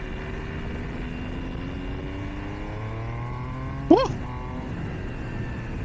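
A Triumph Trident 800 motorcycle engine drones under riding wind, its pitch stepping through gear changes with a sharp quickshifter blip near the middle, fairly faint and without talk.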